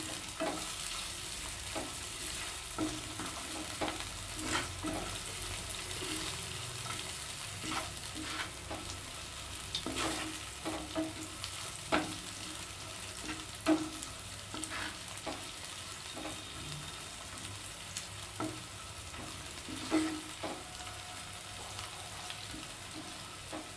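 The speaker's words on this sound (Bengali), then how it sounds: "কাঁচা লঙ্কাটাকে একটু ভেজে নেব।" Slit green chillies frying in oil with already-browned onions in a pan for Bangladeshi-style chatpati, a steady close sizzle with occasional stirring clicks and scrapes throughout, no talking.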